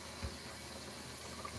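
A faucet runs steadily during a rock cleanup, giving a continuous broadband wash of water that stays fairly even and unbroken, with no voices heard.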